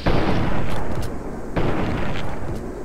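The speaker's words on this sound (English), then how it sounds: "I just shot you 3 times in the face with a hunting rifle before you got 1 shot off" Hunting rifle shots in Fallout 3, loud close booming reports, about three sharp blasts spaced roughly half a second to a second apart with rumbling tails, no talk.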